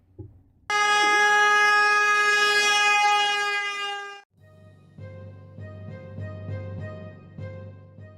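A cart's horn sounds as one long loud tone lasting about three seconds, then cuts to a lower, quieter droning tone as it passes and moves away, with a clear drop in pitch.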